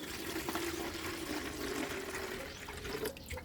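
Water with medicated powder mixed in pours steadily from a 2-liter container into a turkey chick water feeder, a continuous close splashing trickle that tapers near the end.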